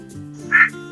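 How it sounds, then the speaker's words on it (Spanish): A single short duck quack, clear and close, sounding alone over soft background music. "Pato."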